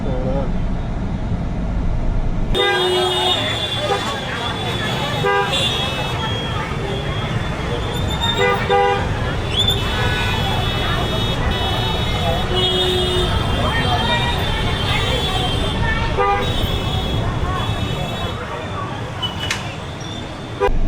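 Dense road traffic on a crowded street in Tamil Nadu, India, a steady loud roar of engines with repeated short car and bus horn toots layered throughout, with people talking over it.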